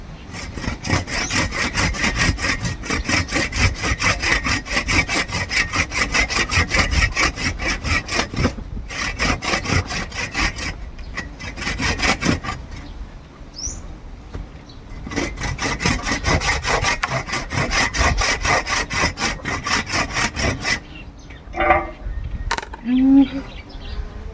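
A hand saw rasps through firewood in steady back-and-forth strokes, close and loud, pausing briefly a few times, with faint birdsong at the end.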